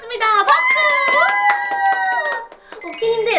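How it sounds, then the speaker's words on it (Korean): Hands clap in a quick run of sharp claps close by, mixed with lively, sing-song voices of young people talking over them. "박수."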